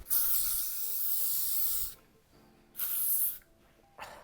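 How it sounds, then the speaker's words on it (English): L-Net hairspray sprayed from a can in three bursts: a long hiss of nearly two seconds, a shorter one, then a brief final puff, close and fairly soft, with quiet pauses between. "The thing about this L-Net spray is it really gets into your tonsils."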